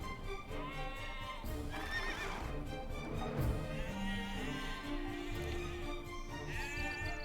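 Sheep in Age of Empires II: Definitive Edition bleat over a steady backdrop of horse neighs and hoof clops, with wavering animal calls overlapping at moderate volume.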